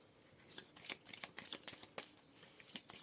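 Mystic tarot cards being shuffled by hand, a quiet, close run of quick papery riffles and flicks in uneven bursts, with no voices.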